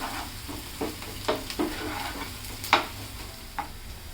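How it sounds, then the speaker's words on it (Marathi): Ginger-garlic paste sautéing with onions in hot oil, a steady close sizzle broken by several stirring scrapes of a spoon against the pan, with no talking. "त्यामध्ये मी आलं लसूणची पेस्ट घालते ती पण एक अर्धा मिनिटानं चांगले आपण परतून घेऊया"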